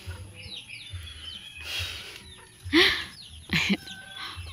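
Chickens cluck near and far in a yard, with a couple of louder squawking calls standing out above softer scattered clucks and background chirps.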